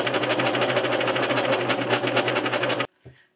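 A serger cover stitch machine sews fabric with a fast, even, close mechanical chatter, then stops abruptly, leaving a brief soft clunk.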